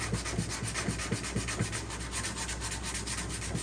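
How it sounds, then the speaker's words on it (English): Sandpaper scrubs paint off a dented steel fuel tank from a Yamaha FZ-09 motorcycle. The close, steady rasping comes in quick, even back-and-forth strokes with no voices. "between, sandpaper, a steel brush, I was able to get everything"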